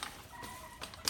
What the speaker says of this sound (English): I'm gonna go see the chickens.